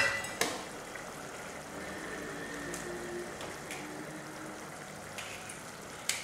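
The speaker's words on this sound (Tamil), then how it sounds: "அந்த கிரேவி கொதிச்சுட்ருக்கு" Egg curry gravy bubbling in a pan after salt and whole raw eggs are cracked in, a steady soft simmer and sizzle heard close up, with a couple of faint clinks and no voices.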